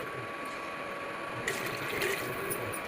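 Water is poured into a hot pan of fried vermicelli for upma, a steady rushing splash that swells louder halfway through, close and continuous with no talk.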